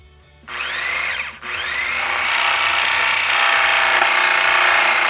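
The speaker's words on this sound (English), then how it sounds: "if I can mute the sound for the saw, I will" A loud power saw whines into wood during a dog door installation, stops briefly, then bites in again with a continuous high-pitched grinding cut close by.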